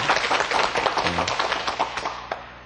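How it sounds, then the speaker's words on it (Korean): Classroom applause, a short burst of brisk clapping from a small group that fades out over a couple of seconds. "박수 100점"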